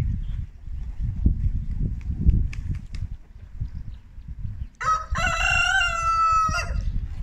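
A rooster lets out one loud, drawn-out crow near the end, following several seconds of low rumbling background noise and faint scattered clucks.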